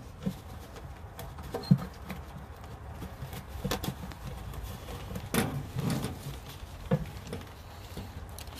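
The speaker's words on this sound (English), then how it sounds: "It's starting to rain, so." Rain begins to fall outdoors in the woods during a hunt from a saddle platform. Light, irregular pattering drops and scattered taps sit over a steady soft background, close and fairly faint.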